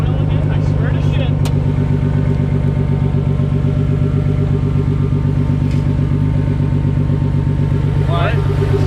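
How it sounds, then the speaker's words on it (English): A Nissan 300ZX engine with a suspected misfiring cylinder-one coil runs loud and steady close by, a deep rumbling idle with rough pulsing that swells near the end, while people talk over it. "give it a rev to clear it up."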